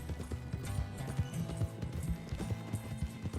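Horse hooves clip-clop at a steady riding gait in Red Dead Redemption 2, quiet and rhythmic, with faint snorts or whinnies now and then.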